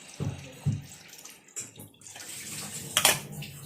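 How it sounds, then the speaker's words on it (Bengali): Water is poured into a cooking pot for boiling potatoes with spice mix in a home kitchen, giving short splashing gushes and a brighter trickling burst near the end, fairly quiet with no talking. "অন্য মনস্কভাবে জলটা ঢেলে ফেললাম"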